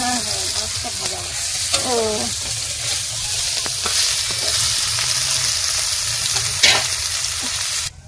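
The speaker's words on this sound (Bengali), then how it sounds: "মাছ ভাজা করছো মা?" Fish frying in oil in a pan in a village kitchen, a loud continuous sizzle close by with light stirring sounds, while a person speaks briefly at the start.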